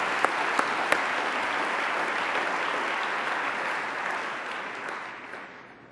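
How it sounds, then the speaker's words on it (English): Audience applause fills a conference hall during an award presentation at a cystic fibrosis conference plenary session. The clapping is dense and steady, with a few sharp claps standing out early on, and it fades away at the end. "Please give them a round of applause, and to all the young investigators."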